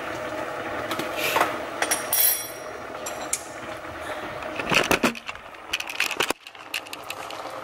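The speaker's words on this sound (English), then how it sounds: "give that a really good mix through to start incorporating some of those flavors" Curry powder and lentils being stirred together in a pan with a utensil, giving close scraping and rubbing strokes in uneven bursts and a few sharper knocks, with no speech.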